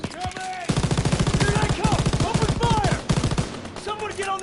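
Rapid automatic gunfire from submachine guns in a World War II shooter game, Call of Duty WW2, a dense stuttering burst that runs almost continuously with short pauses, loud and close, with whistling tones and a voice shouting over it.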